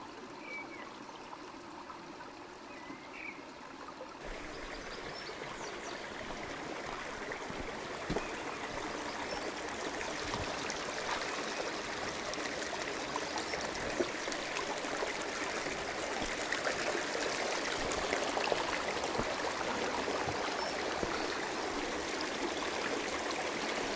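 A river on the Isle of Man flows steadily beside a footpath crossing, a continuous rushing and trickling wash of water at close range with no talking.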